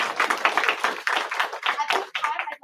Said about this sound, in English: Let's give all of our artists another round of applause.